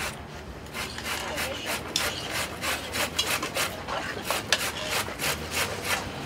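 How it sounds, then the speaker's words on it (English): Carrots scraped against a hand grater in repeated rasping strokes, a steady rhythmic series of gritty scratches, fairly close and moderately quiet, with no clear talk over it. "I'm going to take our carrots again, and again I'm a grater, so I'm going to go ahead and just grate"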